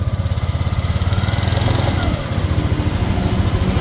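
Close and loud, the freshly repaired Yamaha Aerox V1 scooter's engine runs with a rapid, steady throb that holds even for several seconds and eases slightly about halfway through.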